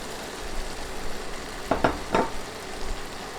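Boiled fish roe sizzling in oil with tomato masala and chopped green chilli, a soft continuous fry broken by a few quick scraping stirs of a spatula in the pan.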